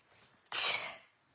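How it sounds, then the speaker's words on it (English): A single loud, close sneeze bursts out suddenly and trails off quickly, with a soft breath just before it in a quiet indoor room. "Excuse me a second, I have to sneeze."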